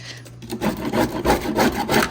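A knife scrapes across fiberglass on an old Squarebody truck, four or five rough rasping strokes in quick rhythm, close and fairly loud, with no talk.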